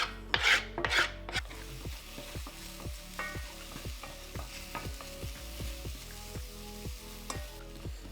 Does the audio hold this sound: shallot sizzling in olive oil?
yes